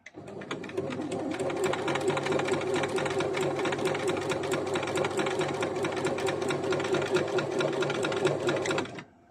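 A Singer portable straight-stitch sewing machine from Japan running at a steady pace, its rapid even needle chatter and motor hum close and continuous for several seconds before stopping.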